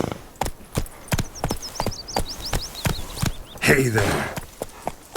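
Roach, the horse in The Witcher 3, trots with crisp, regular hoof strikes close by. A short spoken line and a quick run of chirping whistles cut in over the steady rhythm.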